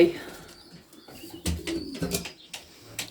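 Young pigeons in a loft make soft, low cooing and rustling sounds up close, with a few brief louder bursts, while a person talks nearby.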